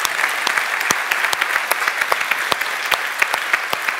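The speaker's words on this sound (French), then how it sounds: "Applaudisse l'impro." An audience claps together after an improv performance at a talk on the artistic brain, a dense, steady run of handclaps filling four seconds at close range with no voices over it.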